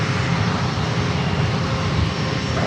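An airliner takes off from runway 27 at San Diego International Airport, its engines a loud, steady, unbroken roar that fills the whole stretch with no voices over it.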